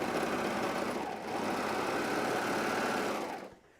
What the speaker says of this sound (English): So we sew up our inseam.